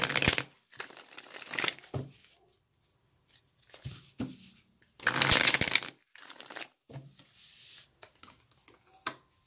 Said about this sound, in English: Let me pull some other tarot cards to sort of elaborate this message.